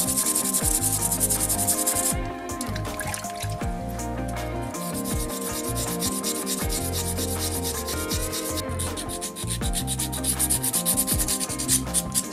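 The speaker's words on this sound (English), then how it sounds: "use a wet and dry sandpaper, and all I've been doing is sanding it off" Steady rhythmic rasping of wet and dry sandpaper rubbed back and forth on a seashell, close up and continuous with brief pauses.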